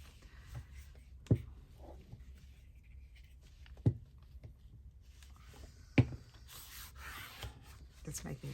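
Glued paper edges on a handmade journal are rubbed down by hand, making soft, close scraping and brushing strokes broken by three sharp taps.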